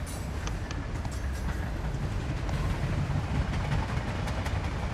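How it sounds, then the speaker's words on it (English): A passenger train runs at full speed along the Ganges valley near Benares, a steady loud rumble of wheels with faint rhythmic clicks over the rails, continuous and close throughout. "The train leaves Benares and runs at full speed along the valley of the Ganges"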